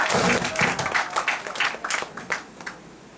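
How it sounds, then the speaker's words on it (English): An audience at a freethinkers forum in the Philippines gives a full round of applause, steady dense clapping that carries through and slowly tapers, fairly close and loud. "A big round of applause for everybody"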